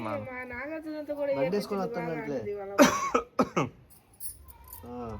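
A person talks, then coughs several times in quick, harsh bursts close by, followed by a brief pause and more speech.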